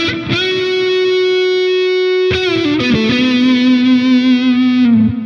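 An electric guitar plays a lead line through the AmpliTube 5 amp simulator, with a distorted, sustained tone and effects shimmer: a long held note, then a few bends and slides, loud and alone.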